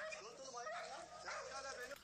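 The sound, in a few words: dog barking in a played video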